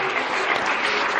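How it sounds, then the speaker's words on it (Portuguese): A church congregation clapping together, dense and continuous applause filling the room at close range, with no clear talking. "Deus abençoe as palmas de alegre."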